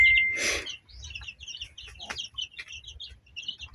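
Chickens cluck and call at a feeding spot where young chicks are given corn and mixed feed, with a loud flutter near the start and a steady scatter of small clucks and chirps throughout.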